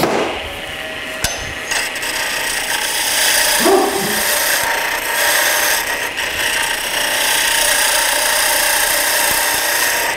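A wood lathe spins a tail stock handle extension while a tool cuts it, making a continuous loud rushing, scraping whir with a few sharp knocks near the start.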